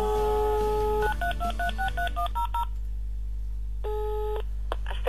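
A telephone keypad dials an office line in a sequence of clear DTMF tones, a short burst of quick beeps followed by a pause and then a few more tones, steady and close over a constant low hum.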